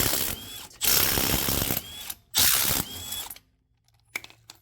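Rapid ratcheting bursts from a hand tool working car wheel lug nuts off a Geo Metro during a suspension rebuild, three loud close bursts of clicking with short pauses, then a few faint knocks.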